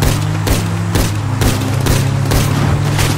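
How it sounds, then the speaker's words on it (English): Gunfire in the video game GTA 5 comes as a steady series of loud, booming shots spaced about half a second apart, over a constant low rumble, with no talk. "Stop shooting at me!"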